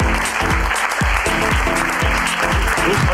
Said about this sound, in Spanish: un aplauso para André Carpio